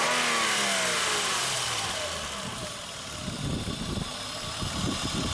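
A 2003 Honda Odyssey 3.5L V6 with a failing ignition coil runs with a cylinder misfire, a steady close engine drone that dips and roughens midway, with no talk over it.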